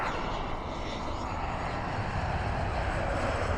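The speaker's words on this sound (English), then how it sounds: "Oh, I can hear a plane." Airplane engine droning overhead in Lanzarote, a steady broad roar heard at moderate distance throughout, no talking over it.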